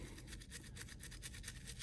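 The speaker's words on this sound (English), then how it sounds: "all you need is the LA's Totally Awesome and an old toothbrush, and you just kind of scrub" An old toothbrush scrubs back and forth over a painted miniature soaked in LA's Totally Awesome cleaner, making a steady, rapid bristly rubbing. The strokes come close and fairly quiet, with no one speaking.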